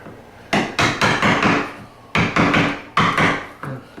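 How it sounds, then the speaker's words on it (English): A screwdriver being driven into a wooden door frame to deepen a hole, heard as sharp repeated striking blows in clustered bursts of three or four, close and loud, with no talk. "Now I can probably continue with the screwdriver."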